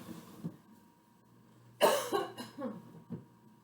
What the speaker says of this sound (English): I'm still dealing with this lingering cough.